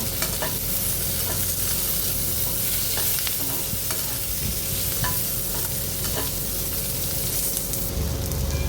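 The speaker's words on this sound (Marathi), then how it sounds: "कांदा थोडा भाजत आला की त्यामध्ये टमॅटो घालू. तोही कांद्यासोबत आपण परतून घेऊ." Onion with a little salt, then tomato, sautéing in a pan while cooking biryani: a steady close sizzle with a broad frying hiss and scattered stirring scrapes and taps, no voices.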